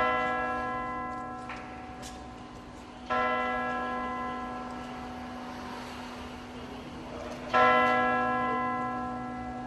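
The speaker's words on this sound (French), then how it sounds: "Le baptême des cloches de la cathédrale de Fort-de-France." The bells of Fort-de-France cathedral toll during their bell-blessing ceremony, with large resonant strikes every few seconds whose ringing hum lingers and fades between them.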